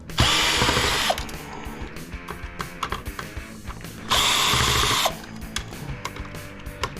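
Two bursts of a power tool driving screws out of scrapped electronic waste, one early and one midway, each about a second long, with clanking handling noises of parts between them.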